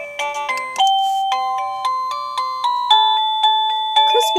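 A Liztek wireless doorbell chime plays a bright, bell-like Christmas melody one note at a time in a steady rhythm. The tones are clear, close and moderately loud, with no talking.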